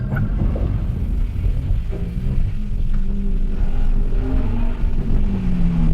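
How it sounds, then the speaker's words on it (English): A loud Lamborghini Huracán Tecnica engine rumbles and revs steadily close up, with a few sharp pops from the exhaust. "the bangs it makes. From the exhaust, let's hear it."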